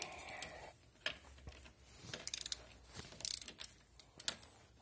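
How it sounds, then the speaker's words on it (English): A ratchet cranks a 14 mm bolt on Hellcat brakes. Faint, quick bursts of clicking come in uneven clusters over a quiet mechanical background. "we'll get our ratchet. You guys are going to need a 14 millimeter"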